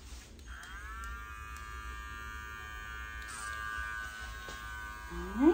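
Electric clippers trimming a Bedlington Terrier puppy's coat hum with a steady, fairly quiet buzz that wavers slightly in pitch, ending with a brief louder rise.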